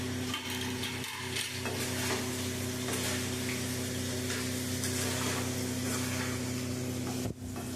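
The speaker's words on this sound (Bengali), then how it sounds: "মানে আলুর সাথে পনিরগুলো ভেজে নিচ্ছ, তাই তো?" Paneer cubes and potatoes frying in a pan while being stirred, a loud continuous sizzle with scraping stir noises and a steady low hum beneath, close up with no voices.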